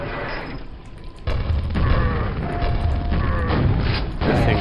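Grenades burst in the retro shooter Quake, heavy booming blasts landing amid continuous loud gameplay noise, with rumbling impacts and mechanical clatter layered close and dense.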